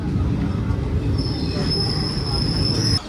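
Train wheels squeal against the rails as a coach rake hauled by a WAP4 electric locomotive pulls into Tambaram railway station, a steady loud rumble with a high sustained screech joining partway through and cutting off near the end.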